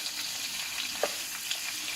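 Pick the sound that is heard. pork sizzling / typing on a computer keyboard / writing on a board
pork sizzling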